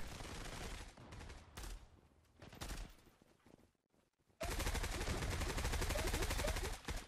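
Teammates fire guns nearby in a shooter video game. Dense bursts of automatic fire come in stops and starts, pause briefly, then resume as a loud, sustained stream. Nobody talks.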